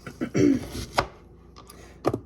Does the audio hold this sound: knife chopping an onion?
yes